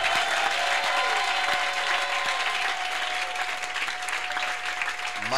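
A church congregation claps steadily through a lively service, the dense applause filling the room at an even level with a sustained tone running underneath.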